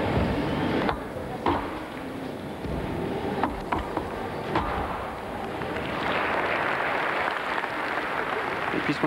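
Arena crowd applauding for German gymnast Lisa Brüggemann on beam at a 2004 Cottbus event, a steady broad wash of clapping with scattered sharper claps and a swell toward the end, under faint commentary.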